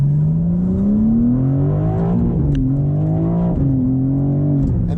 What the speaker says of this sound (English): So we're actually we'll downshift the first gear.